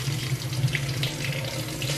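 Water runs steadily from a household tap, filling a container with a continuous close rushing splash and no voices over it.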